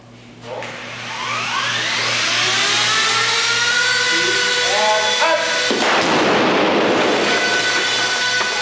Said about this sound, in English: The explosion is impressive, but Nicholson feels that the ending needs t